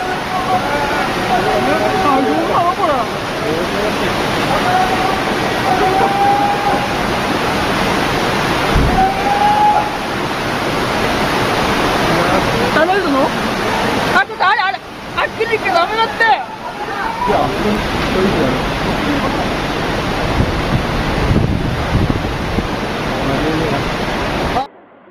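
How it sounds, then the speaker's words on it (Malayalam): Powerful tsunami seawater surging onto land in a continuous loud, roaring rush with heavy sloshing, briefly breaking up midway. Faint voices are mixed into the noise. "കടൽ ജലം എത്ര ശക്തിയോടെയാണ് കരയിലേക്ക് കയറി വരുന്നത്."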